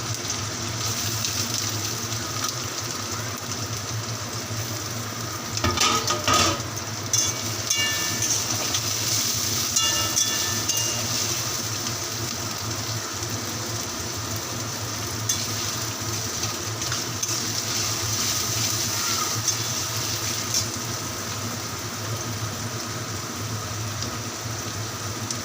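Chopped garlic, ginger, onion, capsicum and green chillies fry in hot oil with a continuous broad sizzle, steady and fairly loud throughout, with occasional clinks and stirring scrapes partway through.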